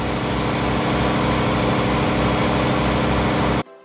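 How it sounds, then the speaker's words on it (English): A loud cruise ship tender boat engine drones steadily at close range in windy conditions, a constant heavy rumble that stops abruptly near the end. "we were seated near the engine and it was quite loud"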